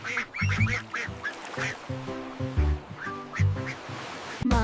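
A duck quacks in quick, bright bursts, several short calls in a row with brief gaps between them, loud and near.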